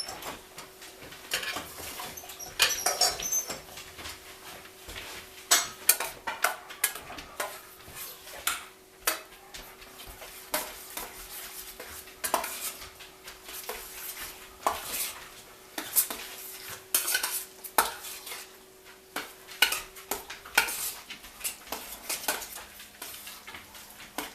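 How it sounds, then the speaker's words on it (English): Rice going into a pan of Mexican-style tomatoes for a taco dinner, with irregular scraping, clinks and stirring knocks against the pan over a low steady hum. "So this is the Mexican style tomatoes. I'm going to add the rice to that."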